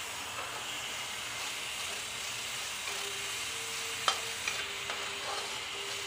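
Masala with Kashmiri chili fries in a pan while being stirred, giving a steady close sizzle and hiss with a few brief clinks and scrapes of the spoon against the pan partway through.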